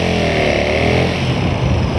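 A motorcycle pulls away hard as the clutch is let out fast with heavy throttle, its engine droning loud and steady and close, climbing in pitch through the short stretch with no talk over it.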